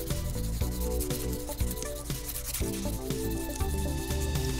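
Acrylic nails are filed with a 600 grit file toward the free edge, giving close, steady rasping strokes that rub back and forth in a continuous rhythm.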